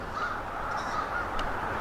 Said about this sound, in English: Quite a ruckus going on over here. Bunch of crows and stuff.